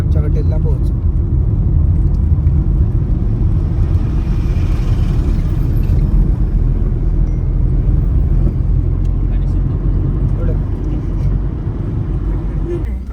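A car drives along a road entering Goa, its engine and tyre rumble loud, close and steady throughout, with talk over it.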